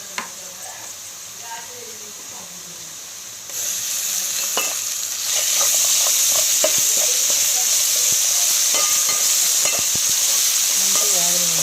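Onions with ginger garlic paste frying in a pan for a chicken fry, a steady bright sizzle that swells louder partway through, with intermittent stirring scrapes and clinks close by.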